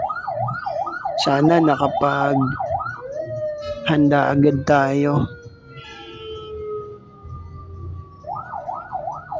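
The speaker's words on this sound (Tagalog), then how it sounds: "May ambulansya pa naman." Wailing ambulance siren in Manila city traffic along Taft Avenue, a rising and falling two-tone wail that fades out, then returns near the end, with people speaking over it at times.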